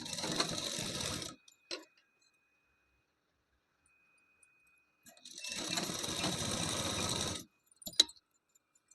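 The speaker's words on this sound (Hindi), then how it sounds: "अब हमें इसके ऊपर से एक डबल सिलाई कर देनी है।" A sewing machine runs in two bursts of stitching along a blouse hook strip, each a steady whirring rattle lasting a second or two, separated by quiet pauses and a few sharp clicks.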